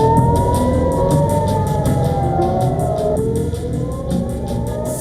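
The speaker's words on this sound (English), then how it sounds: "Sirens erupt across cities." Sirens wail continuously, rising and falling pitches overlapping, fairly loud with a rumbling vehicle underneath; no talking.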